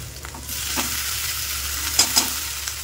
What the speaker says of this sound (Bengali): তো এই দেখো সব রকম সবজি দিয়ে ম্যাগি ফ্রাই করছি।